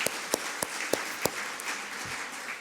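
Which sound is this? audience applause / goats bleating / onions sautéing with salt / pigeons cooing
audience applause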